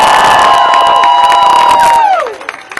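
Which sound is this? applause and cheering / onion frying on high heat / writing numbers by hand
applause and cheering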